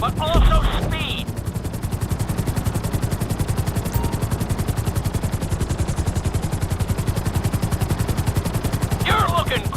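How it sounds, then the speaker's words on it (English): Helicopter flying in GTA V, a loud steady rotor chop that pulses evenly throughout, with a voice talking briefly at the start and end. "we'll see how well you handle the chopper"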